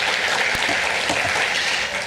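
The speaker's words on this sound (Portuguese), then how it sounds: "Receba também os aplausos de todos os presentes" Applause from those attending a congress panel session for a doctor being honored, a dense, even wash of clapping that holds steady and fades slightly at the end.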